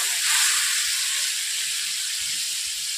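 A steady, loud hiss of spices sizzling with a little water in a hot pan, a mix of chilli powder and turmeric with onion, ginger and garlic, runs unbroken for the whole clip without talk.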